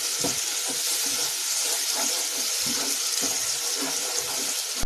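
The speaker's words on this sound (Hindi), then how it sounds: "मैं इसमें थोड़ा सा डालूंगी पानी और मसाले को अच्छे से पकने दूंगी।" Water pours steadily into a pan of Punjabi-style rajma masala with tomatoes, a continuous close splashing hiss with faint clinks, heard alone for about five seconds.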